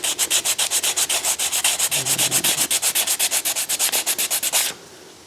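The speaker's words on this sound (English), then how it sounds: "some sandpaper, or actually this sanding film. You can get this at hobby shops, comes in different grits" Sanding film rubbed over a flat area of a 3D print, a rapid, even run of about thirty close, scratchy back-and-forth strokes that stop abruptly, leaving quiet room noise.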